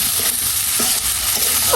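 Spices and a pinch of salt fry in a pan, giving a steady close sizzle with soft stirring scrapes running through the short stretch.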